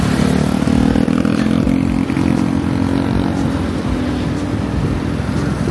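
Motorcycles in riverside traffic in Cagayan de Oro rev and drone nearby, engine noise rising and falling steadily over a low road rumble.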